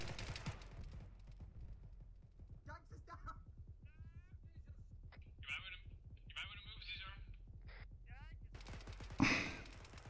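Rapid bursts of gunfire in a video game form a steady, fairly faint rattling stream throughout, while voices and shouts break in over it and a sharp loud crack lands near the end.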